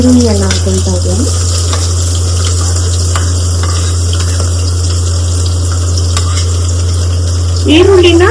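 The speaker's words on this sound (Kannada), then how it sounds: "ಈರುಳ್ಳಿನ ನಾವು ಸ್ವಲ್ಪ ಫ್ರೈ ಮಾಡಬೇಕಾಗುತ್ತೆ." Chili peppers and onions fry in a pan for vegetable palav, a continuous loud sizzle with scraping stirs, and a voice speaks briefly at the start and the end.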